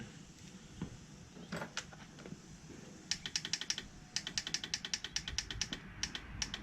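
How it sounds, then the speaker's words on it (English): A Tao Tao mini 110cc ATV clicks while someone tries to start it, a rapid run of sharp, close, repeated clicks in bursts following a few scattered knocks. "Now it's clicking."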